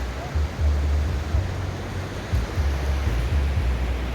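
Sea waves washing onto a sunny beach on the Lingayen or La Union coast in the Philippines, a steady broadband rush with low rolling surges, up close and continuous, with no talk over it.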